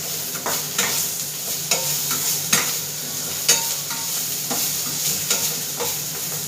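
Chopped onion and garlic frying in a pan, a bright steady sizzle broken by sharp periodic scrapes and clacks of a spoon stirring, close and fairly loud, no talking.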